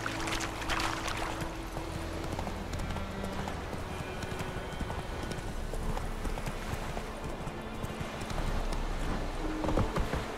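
Roach the horse gallops in The Witcher 3, a steady clip-clop of hooves running throughout under a constant game soundscape, with a faint voice briefly in the background.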